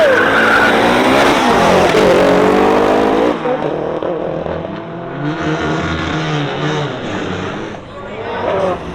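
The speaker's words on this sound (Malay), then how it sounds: "Lumba dengan Mercedes A45S." An Evo 3-engined car launches off the line in a drag race against a Mercedes A45S at an ESR drag event in Songkhla, its engine loud and close, climbing in pitch for about three seconds before easing to a steadier rumble.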